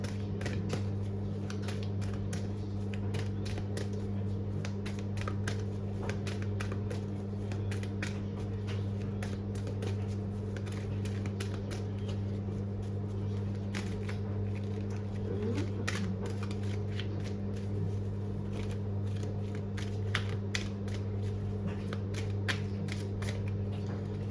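Oracle cards are shuffled for a tarot reading, a continuous soft riffling and flicking over a steady low hum, close and quiet throughout.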